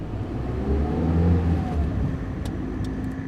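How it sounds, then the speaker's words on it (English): A car engine revs and the car pulls away, a low, steady rumble that swells and eases over a few seconds, with faint clicks near the end and no talk. "Rick, start the car!"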